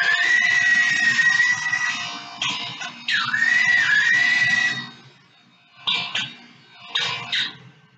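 A shrill, whining grind of a spinning buffing wheel polishing a pen casing runs steadily for about five seconds, then returns in two short bursts after a pause.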